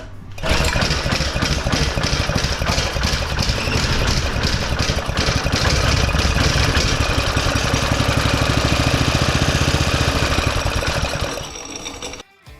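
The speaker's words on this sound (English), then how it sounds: "I'm gonna hit the throttle, open, and then close." A cheap go-kart's small engine runs loudly and steadily with a rough, rattling idle, its revs shifting slightly as the throttle opens and closes and fails to return fully, before cutting off near the end.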